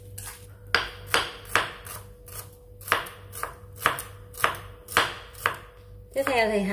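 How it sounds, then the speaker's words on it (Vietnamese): A knife mincing shallots and garlic on a cutting board, about a dozen sharp close chops in a steady rhythm, with a brief voice right at the end. "hành tím mình sẽ băm nhuyễn ra cùng với tỏi nha"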